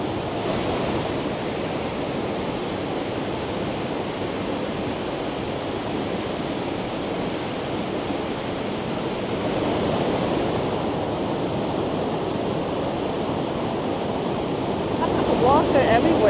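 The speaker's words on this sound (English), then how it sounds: "We go to fall 6 to 10. I'm quite sure that it will be very loud now." Waterfalls six to ten in Switzerland's Jungfrau region pour with a powerful, continuous roar of crashing water, close by and steady, swelling slightly louder near the end with no clear speech.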